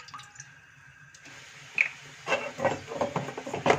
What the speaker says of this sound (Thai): เทน้ำสองแก้วจ้ะ